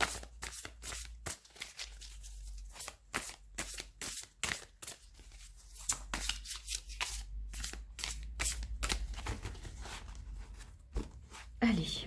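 Arcana Sacra oracle cards are shuffled before a three-card draw, a long run of quick papery flicks and riffles close by with a quiet murmur of talk in places.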